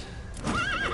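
A horse in the video game Metal Gear Solid V gives a brief wavering whinny over a low steady background rumble, moderately loud and lasting under a second.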